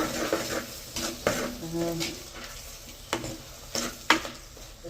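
Soya meat and chillies sauté quietly in a pan, with intermittent clinks and scrapes of a spoon against the metal over a faint sizzle.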